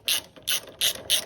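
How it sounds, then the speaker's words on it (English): A ratchet wrench turns a 12 mm bolt on the rear wheel of a Honda SH150i scooter, four quick, loud clicking bursts in a steady rhythm, close up with no talking. "I'm gonna ratchet a little faster this way"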